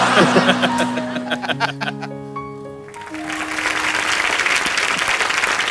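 On The Kapil Sharma Show, a studio audience claps for Riteish and Vivek, with chuckles and laughter mixed in, while sustained musical tones hold through the middle before a broad burst of loud applause takes over.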